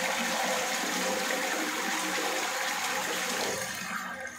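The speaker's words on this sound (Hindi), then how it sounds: "अभी मैं फ्लश करता हूँ, अभी एक ड्रप भी पानी नहीं आएगा" Toilet flushed after a repair to its leaking flush bend pipe: a loud, continuous rush of gushing water that fills the whole clip and starts to ease off at the end.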